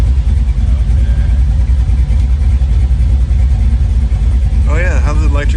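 A 1965 Chevrolet Nova engine runs steadily on its first start-up, a loud, rumbling idle that holds throughout, with a voice briefly talking over it near the end.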